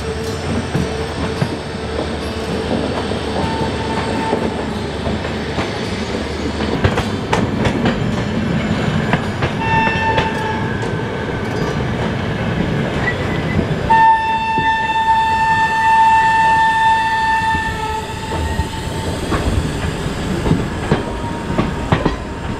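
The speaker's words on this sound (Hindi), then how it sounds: "सामने से आ रही है काठगोदाम शताब्दी एक्सप्रेस जो न्यू दिल्ली से काठगोदाम के बीच चलती है।" Kathgodam Shatabdi Express passing close by, with loud rumbling and clattering wheels, several long horn blasts sounding midway and toward the end over the continuous rolling noise.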